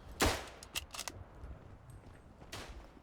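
Gunfire in the World War I shooter game Verdun: a loud sharp rifle shot followed by several quieter distant cracks, spaced irregularly over a low battlefield rumble.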